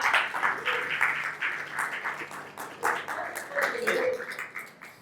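Congregation in a church applauding for several seconds, a continuous dense clapping crowd with voices mixed in.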